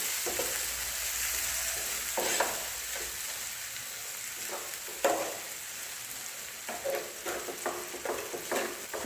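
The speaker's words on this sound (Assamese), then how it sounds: "বিলাহীখিনি এতিয়া ভালদৰে গলাই ল'ম, এনেদৰে হেঁচি হেঁচি।" Tomatoes fry and get stirred and mashed in a pan for Assamese sesame chutney. A continuous sizzle runs under irregular scraping and pressing strokes, and the clatter grows busier toward the end.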